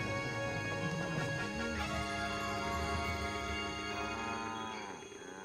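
Cows mooing on the Moo Moo Meadows course of Mario Kart 8, drawn-out lowing calls layered over game music and engine tones, moderately loud before fading at the end.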